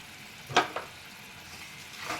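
Raw mango chutney with sugar, cashews and raisins simmers in a pan, giving a faint, low bubbling hiss with a couple of brief crackling pops.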